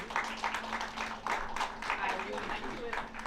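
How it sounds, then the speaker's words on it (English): Audience applause for a conference panel, steady scattered hand clapping at moderate loudness over a low hum, with voices talking through it. "please give a huge round of applause for this esteemed panel"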